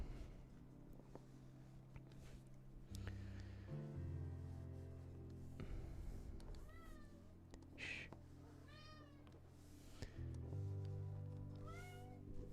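A cat meows repeatedly, several distinct rising-and-falling calls close by, spaced out over a quiet background hum with no speech.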